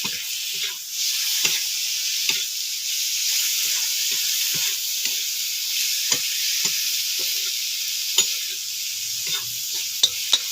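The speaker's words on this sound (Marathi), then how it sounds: "आणि ह्याच्यावर आता बारीक चिरलेला टोमॅटो टाकतो टोमॅटो चांगलं मिक्स करून घ्यायचं" Chopped tomato stirred into a hot iron pan over a wood-fired stove, a steady sizzle of frying under scraping spoon strokes that land every second or so, close and fairly loud, with no voices.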